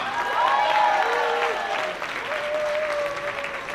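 Applause from a gala audience, steady clapping with faint voices and a tonal sound layered over it.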